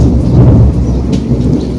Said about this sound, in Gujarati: કેવી વીજળી છે.